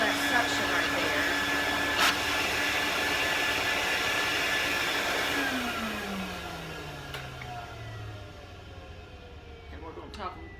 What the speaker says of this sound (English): I'm going to turn it on briefly on high to show you, because it does get loud